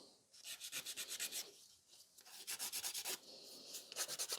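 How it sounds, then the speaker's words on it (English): Rhythmic rasping strokes of a nail file working over fiber gel fingernails, close and steady in quick bursts with short pauses between sets, no talking. "You can see it when I'm filing my nails as well."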